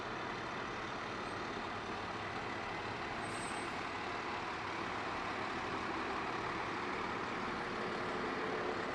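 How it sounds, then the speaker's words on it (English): A Jamestown, Missouri fire tanker truck rolls past in a parade with a steady low engine rumble and a faint hiss of air brakes, heard at moderate distance against a constant outdoor background. "Here's a tanker truck from Jamestown,"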